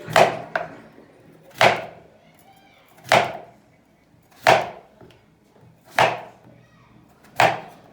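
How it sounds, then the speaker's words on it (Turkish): Potatoes sliced into rings with a kitchen knife on a board for a tray of baked meatballs: six sharp, evenly spaced knife strikes about every second and a half, close and crisp, with quiet between them. "Patateslerimizi köftemize uygun şekillerde halka halka doğrayacağız."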